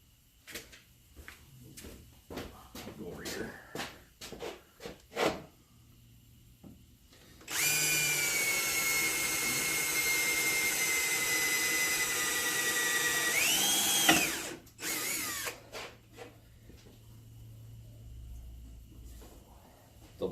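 A few clicks and handling noises, then a power drill whines steadily for several seconds while widening holes by 1/4 inch, winds down, and gives a couple of short bursts before the clicks resume.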